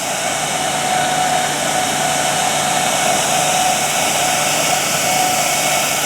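A foam machine at an event setup sprays foam with a steady, loud, broadband rushing hiss. The sound is continuous and unchanging, close by, with no voices.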